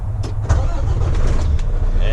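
A semi truck engine just fitted with a new starter turns over and catches, a deep rumbling idle that is loud and close, with a voice partly audible over it.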